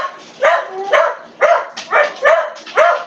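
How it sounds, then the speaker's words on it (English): Dog barking outdoors: six loud, evenly spaced barks in a steady rhythm, close and clear, with nothing else heard between them. "Who's barking at the moon?"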